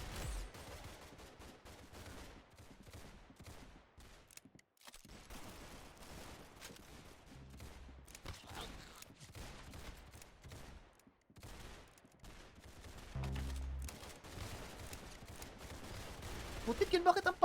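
Gunfire rattles in a Roblox shooting game, bursts of quick shots with gaps between them, moderately loud against busy game sounds, with a louder burst near the end.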